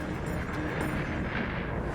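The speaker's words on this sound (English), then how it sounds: "This is what's called a strombolian eruption, named after the active Stromboli volcano in Italy." A strombolian eruption at an active volcano: a loud, broad roaring blast of rushing, rumbling noise that stays dense and steady, with no voices over it.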